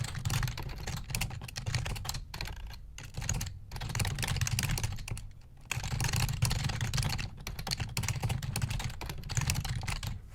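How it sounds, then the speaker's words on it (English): Continuous clattering keystrokes on a computer keyboard, rapid and close, with brief pauses between bursts of typing and no voices. "I'm just going to type out something just for the meanwhile"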